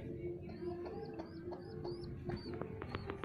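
Domestic pigeons, a young Gendon-bred bird among them, giving soft repeated coos and short chirps at close range over a low background hum, with faint murmuring voices.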